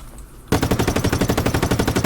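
CS Predator gun firing in Just Cause 3, a rapid automatic burst of loud, evenly spaced shots that starts abruptly after a quiet half-second and rattles on steadily with no talking.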